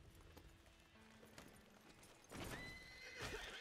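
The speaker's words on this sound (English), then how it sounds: "Well, my horse is not happy about that." Horse in the video game Red Dead Online gives a loud, close whinny near the end, after quiet hoof clip-clops and low game ambience.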